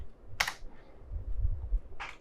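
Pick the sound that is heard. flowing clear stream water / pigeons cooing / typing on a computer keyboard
typing on a computer keyboard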